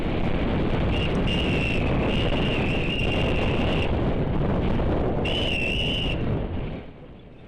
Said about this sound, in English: The whistle you heard was Steve starting the sprint